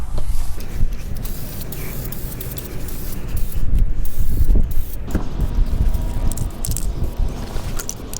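PB Blaster Surface Shield sprayed from an aerosol can underneath a car, a close, loud, hissing spray in long bursts with short pauses and some handling noise between them.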